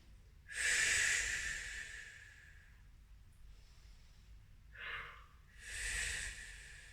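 Slow, deep breathing in child's pose during a Pilates shoulders and chest class, two long airy breaths close to the microphone with a short quieter breath between them and no talking.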